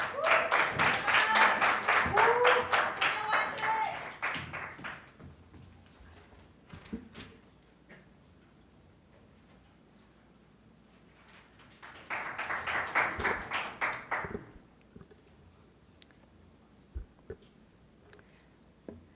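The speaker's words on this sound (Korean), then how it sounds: "박지혜 학생의 연설을 박수로 들어보겠습니다." Applause from a school audience greeting a second-year student at Bucheon Girls' High School before her speech, a dense burst of clapping that fades, then a second shorter round later, with quieter pauses and scattered taps between.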